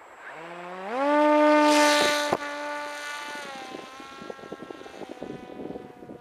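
A tailless Mantis model aircraft flies past with a loud, rising propeller-engine whine that swells, then settles into a steady buzzing drone as it moves away, mixed with gusty wind noise and no talk.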